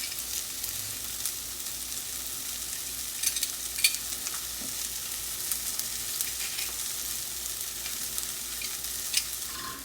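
Garlic and onion sauté in a pan with a continuous, moderate sizzle and a few faint stirring scrapes.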